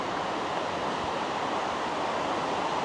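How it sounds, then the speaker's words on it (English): A raging waterfall in an Austrian Alps gorge gives off a constant, dense roar of rushing water, loud and unbroken throughout with no voices. "I can hear it raging and I can see it, the first waterfall."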